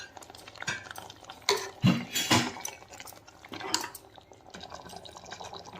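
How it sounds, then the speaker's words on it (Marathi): A spice paste is stirred into chicken in a pressure-cooker pot for a Konkani chicken curry, with a spoon scraping and clinking against metal in several close, uneven strokes and a wet, sloshing texture, with no talking. "आणि मिक्स करून घ्यायचं"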